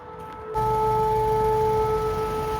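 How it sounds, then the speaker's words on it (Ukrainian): An air raid siren sounds over the city of Chornomorsk, a steady sustained wail that starts abruptly and carries on at a constant pitch, heard from a distance amid outdoor ambience. "Я вже йду назад, як зурочила повітряна тривога."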